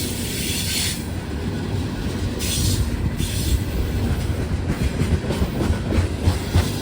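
Conrail freight train rolling past near Elkhart, a steady loud rumble of railcars with wheel squeal and clickety-clack continuing throughout, no voices.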